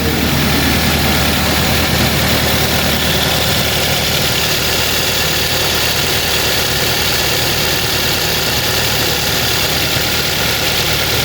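Toyota Avanza engine with a DLI ignition system idling steadily after an ignition coil replacement, a loud, close, even rumble with constant low hum and vibration, no voices.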